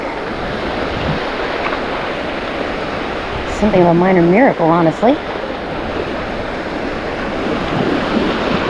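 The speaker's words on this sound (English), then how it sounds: "That wave splashed me up to my knees." Ocean surf washing onto a Gulf beach at Lido North after Hurricane Helene, a steady broadband rush of breaking waves throughout, with a person talking briefly over it midway.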